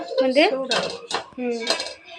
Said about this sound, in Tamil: இப்போ அடுப்பத்தை வச்சுக்கலாம், பாத்திரத்தை வச்சுக்கலாம்.